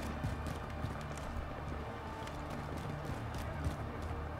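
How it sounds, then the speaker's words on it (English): Rapid, dense footsteps in the video game Modern Warfare, as a steady patter of many close steps over a constant low background rumble, with no talk. "I hear footsteps."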